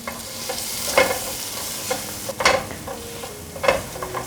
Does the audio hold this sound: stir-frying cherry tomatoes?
yes